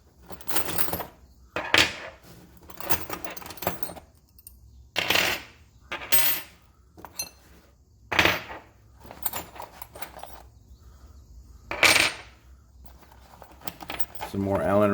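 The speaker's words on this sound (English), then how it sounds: "Inside we have some Allen wrenches and some wrenches." Allen wrenches and wrenches jangle and clink in several separate metallic bursts as they are handled inside a nylon tool pouch, with quieter rustling between them and a voice at the end.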